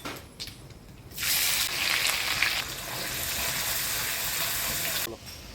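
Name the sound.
chopped onions frying in a pan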